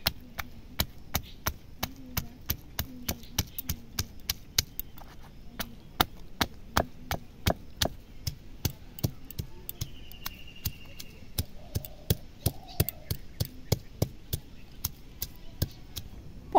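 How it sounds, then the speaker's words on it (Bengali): Pointed gourds (potol) are crushed with a pestle or stone in regular, sharp knocks, about one or two per second, close and distinct over a quiet background, with faint sounds between strikes. "পটলগুলো থেঁতো করে নিচ্ছি।"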